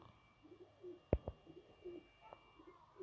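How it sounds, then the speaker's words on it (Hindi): A black-faced pigeon gives soft, low coos at intervals, with one sharper, louder sound near the middle, faint and close against a quiet background. "माशाल्लाह ये काले मुंह वाला बड़ा कबूतर है जनाब"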